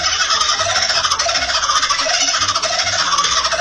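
A kookaburra call sped up to double speed becomes a loud, continuous, rapid chattering warble with a pulsing, squeaky rhythm, heard alone.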